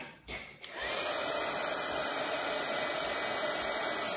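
A hair dryer switches on after a couple of brief clicks and blows a steady, loud, even whoosh over a wet watercolor painting, continuing alone to the end.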